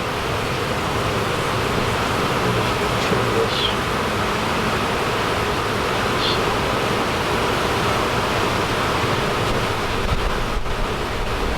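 Honeybees swarming around a honeycomb section inside a boat outdoors, a dense continuous buzzing hum blended with broad wind- or water-like hiss, steady and loud throughout the clip.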